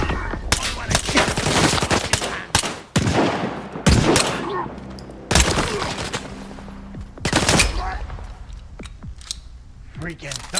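Loud bursts of gunfire in the shooter STALKER 2, several separate volleys of close shots broken by brief pauses, with mechanical clicks between them.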